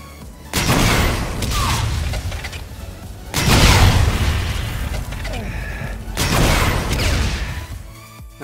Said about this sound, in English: A generic rocket launcher you get in every game.